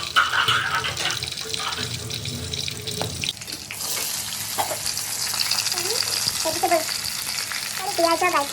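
Garlic, ginger and chili fry for chow mein with a continuous sizzle, mixed with running tap water and utensil clatter throughout, with faint speech in the background.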